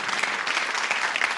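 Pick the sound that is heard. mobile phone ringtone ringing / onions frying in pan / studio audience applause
studio audience applause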